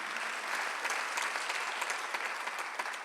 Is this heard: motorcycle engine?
no